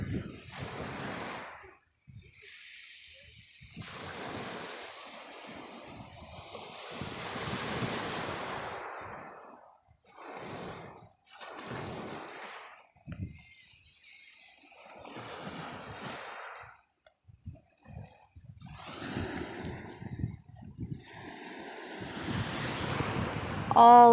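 Ocean waves rolling in and breaking on a shore, a slow repeating surge and wash that swells and fades every few seconds, close by and roaring, with wind buffeting the microphone.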